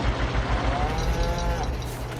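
Hungry cows in the Farming Simulator 22 video game give a faint, drawn-out moo partway through, half-buried under a steady, noisy game-ambience hiss.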